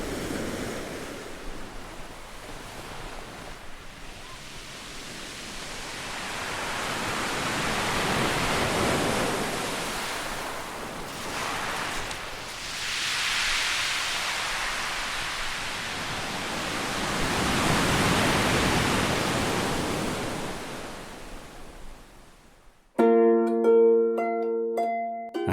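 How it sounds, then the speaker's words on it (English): Sea waves breaking on the Brighton coast, a broad rushing wash that swells and recedes in slow surges, loud and close, with wind mixed in and a short musical sting at the end. "I could listen to the sea for a very long time."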